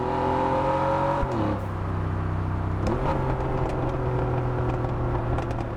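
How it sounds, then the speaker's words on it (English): A car's engine and exhaust in the Test Drive Unlimited Solar Crown racing game roar loudly and close, with sharp gear-shift drops in pitch followed by sustained high revving, and no talk. "And that exhaust sound is just crazy."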